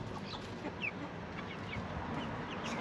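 Backyard chickens cluck and chirp faintly amid a steady outdoor background hiss, with scattered short calls spread throughout.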